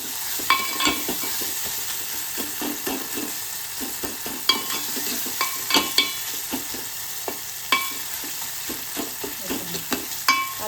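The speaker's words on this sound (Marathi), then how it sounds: "थोडंसं आपल्याला पळीने याला थोडंसं स्मॅश करायचं हलकंसं" Softened tomatoes in a hot tempering for a toor dal varan being smashed with a ladle, steady sizzling broken by repeated sharp metallic taps and scrapes at an uneven pace.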